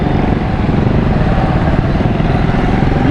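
Steady loud motorcycle engine drone while riding along a city road in Karachi, constant and close with rumbling wind over it.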